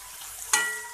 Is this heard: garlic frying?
yes